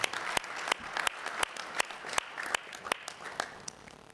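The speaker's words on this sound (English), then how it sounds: "Another big round of applause for Mrs." A modest audience claps for the Secretary of State at an investor roundtable business forum, with a few sharp individual claps standing out over a softer steady patter, fairly quiet and fading slightly toward the end.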